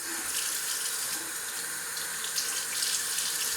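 Water running steadily from a tap to wet long hair before a home haircut, a continuous close hiss and splash with no talking.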